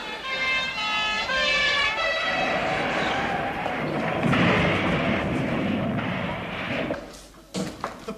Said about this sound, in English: The panda car hit the ambulance and the fire engine has gone straight into the back of them.